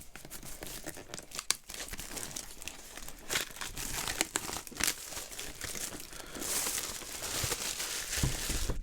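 Packaging for a Cryptotag Odin cold-storage backup is crinkled and torn open up close, a quiet run of papery rustles, crackles and sharp tearing bursts with no voices.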